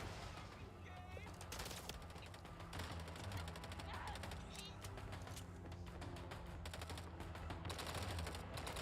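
Rapid automatic gunfire in the Mindseye video game rattles on steadily, dense bursts layered over game effects and occasional faint bird-like chirps, loud and continuous throughout.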